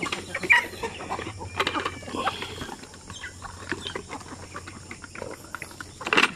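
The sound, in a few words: Sampi native chickens clucking at feeding time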